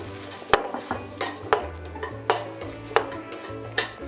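Shallots and spices sautéing in a pan give a low, steady sizzle broken by repeated sharp clinks and scrapes of a utensil stirring, close by with no talk.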